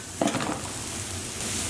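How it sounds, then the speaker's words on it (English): Onions sizzle steadily in a hot pan as they are lightly sautéed for a wild mushroom risotto, with a brief tossing rustle near the start over the continuous close frying hiss. "all we're doing is very lightly sauteing our onions until they're softened and brown"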